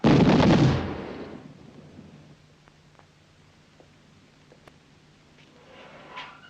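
Rifle volley from a firing squad in a 1969 First World War film, a single loud simultaneous crack at the start that rolls off into a fading echo and quiet room tone, with a faint noise rising near the end.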